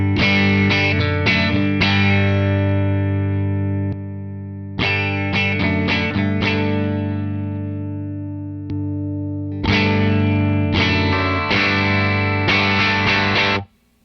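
Electric guitar played through a Wampler Brent Mason signature drive pedal set as a clean boost, ringing strummed chords and short licks in three loud phrases with pauses between, bright and full with no distortion.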